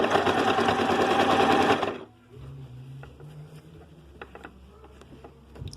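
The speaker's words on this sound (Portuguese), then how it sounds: "eu vou costurar um pouco aqui com vocês" A domestic sewing machine stitching soft-fabric toddler trousers with an elastic cuff runs in a loud, steady, rapid burst for about two seconds, then stops, leaving quiet handling noises.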